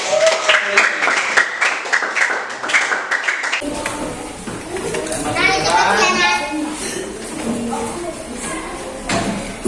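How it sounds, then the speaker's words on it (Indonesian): Children in an Indonesian classroom clap together for a group after a teacher's prompt, a burst of dense, close applause taking over from a voice and running several seconds amid classroom chatter. "tepuk tangan buat kelompok"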